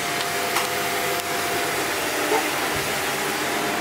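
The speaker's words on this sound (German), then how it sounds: "Du magst immer noch keine Staubsauger, ha?" A household vacuum cleaner runs steadily indoors, giving a loud, even whooshing drone with no talking over it.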